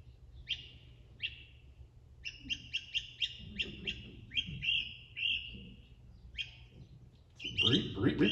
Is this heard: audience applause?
no